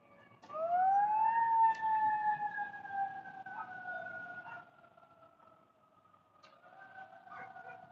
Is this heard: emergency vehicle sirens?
yes